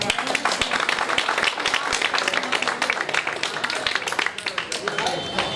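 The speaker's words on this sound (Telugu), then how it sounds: "ఒకసారి బిగ్ క్లాప్స్" An audience applauds at a 2001-2002 batch high school reunion in Thimmaraopeta, many hands clapping loudly in a dense, continuous burst that carries on throughout the clip.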